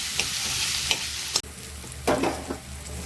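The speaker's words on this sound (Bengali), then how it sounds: "পেঁয়াজটা আমার ভাজা ভাজা হয়ে গেছে।" Onions and garlic fry in a pan for chicken kosha, a steady broadband sizzle with several scraping stirs of a spoon across the pan, close and alone without talk.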